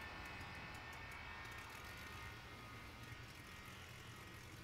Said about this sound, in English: Something not quite right sounding about those engines